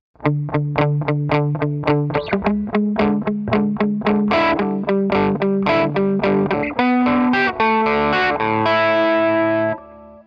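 A distorted electric guitar riff from the intro of a song, quick repeated chugging notes shifting pitch in steps, loud and close, ending on a sustained ringing chord.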